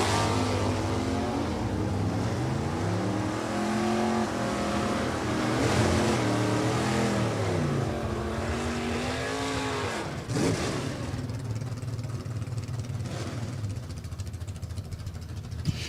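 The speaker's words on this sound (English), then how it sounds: "Moran, the Camaro, out of East Falmouth, Mass. B-Stock Automatic taking on Monahan's 89 Pontiac, the K-Stock Automatic" A Camaro in B-Stock Automatic and a 1989 Pontiac in K-Stock Automatic drag race at a New England dragway, engines roaring loud and steady with rising revs and gear changes throughout, no talk over them.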